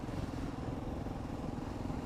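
A DR350 dirt bike running rich on a Virginia horse trail ride, its engine giving a steady, close, continuous throbbing drone with a loud low rumble and no talk over it.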